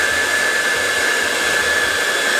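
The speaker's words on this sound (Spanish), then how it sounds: "Esto vamos a calentarlo bien con el secador de pelo." A hair dryer blows a steady, loud whooshing stream of hot air onto a ball made of nano tape, running unbroken throughout with a faint electric hum beneath.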